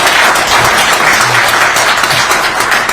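Audience at a citizens' association founding event applauding a lawyer, a loud, sustained wash of many hands clapping with some faint crowd murmur underneath.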